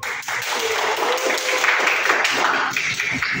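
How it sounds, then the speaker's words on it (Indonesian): A classroom group claps during a microteaching session, a dense steady wash of applause lasting the whole stretch, moderately close, with faint voices mixed in. "Beri tepuk tangannya"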